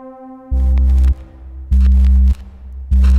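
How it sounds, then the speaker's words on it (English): A synth bass without a texture plugin, three loud, clean, sustained low notes with short gaps between them, alone and close. "So we've got a bass sound, sounds like this."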